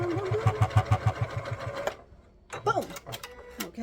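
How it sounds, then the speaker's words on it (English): A sewing machine stitches two pieces of fabric together in a quick rhythmic mechanical chatter for about two seconds. A voice talks over it and continues after the machine stops. "you're sewing them together"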